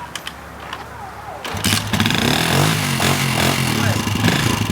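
A motorcycle engine quiet at first, then catches and starts with a sudden burst, settling into a loud rough idle with revving pulses while people talk nearby.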